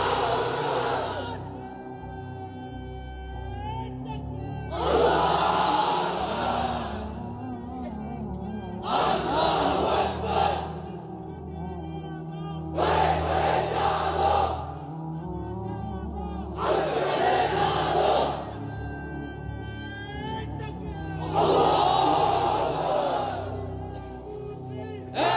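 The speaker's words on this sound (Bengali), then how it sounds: "এবার অবিবাহিতরা দাও লিল্লাহি তাকবীর" A large crowd of unmarried men at an Islamic sermon gathering roars the takbir in unison, with several loud bursts of massed shouting a few seconds apart and a preacher's amplified voice between them.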